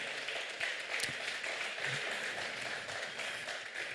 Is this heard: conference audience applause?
yes